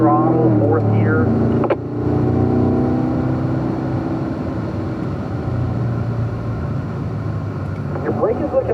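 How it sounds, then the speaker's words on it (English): Race car accelerating at full throttle in fourth gear, a steady loud engine drone that holds strong across the whole stretch while a voice talks over it. "Rolling into full throttle, 4th gear."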